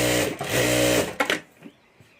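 Sewing machine stitching a purse strip: a fast, loud mechanical whir running for about a second, a short second burst, then quiet.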